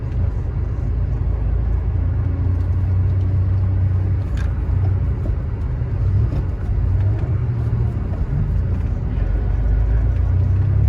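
An air-cooled Porsche 911 driving through Manhattan gives a continuous loud, low engine rumble with road noise; a gear change is not clearly distinct.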